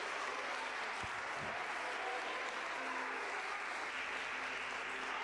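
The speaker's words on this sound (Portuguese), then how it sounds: "Aplauda mais forte a Jesus." A church congregation applauds for Jesus at an evangelical service, a steady, dense wash of clapping that holds evenly throughout with a couple of sharp low thumps early on.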